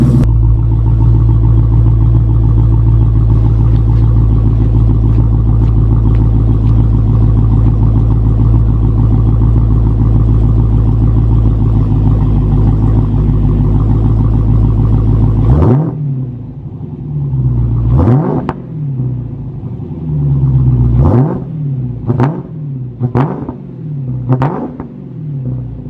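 Mustang GT with the 5.0 V8 after a cold start: steady loud high idle rumble for about fifteen seconds, then a string of sharp throttle blips rising and falling, several in quick succession near the end.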